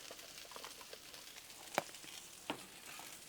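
Potatoes fry in bacon grease on a Blackstone griddle, a soft continuous sizzle with crackles, punctuated by two sharper scrapes or taps of a spatula as they are moved around.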